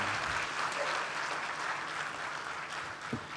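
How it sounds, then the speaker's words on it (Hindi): An audience at a Hindi poetry recital gives a soft, sustained round of applause, a dense, even patter of many hands heard from a distance. "तालियां कमजोर हैं आपकी"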